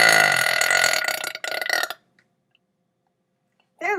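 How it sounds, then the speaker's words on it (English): A long, loud, drawn-out burp lasts about two seconds, followed by silence and then a brief voice at the end. "You keep burping to entertain me."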